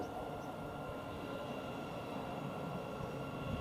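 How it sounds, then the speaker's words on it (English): A Thameslink Class 700 electric train passes through a rail station, giving a faint, steady rumble and hum throughout. "Now we've got a Thameslink train, which is the 13:37, running about 5 minutes late roughly, from Cambridge towards Brighton."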